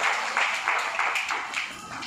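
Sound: audience applause

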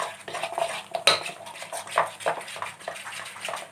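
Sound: mixing fulauri batter with roasted cumin

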